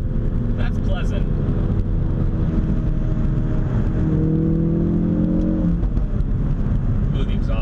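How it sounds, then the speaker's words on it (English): A Ford Focus RS hot hatchback engine drones loudly from inside the cabin, its pitch rising as it accelerates past 4,000 RPM, with the exhaust note steady under the road noise. "the exhaust sounds good"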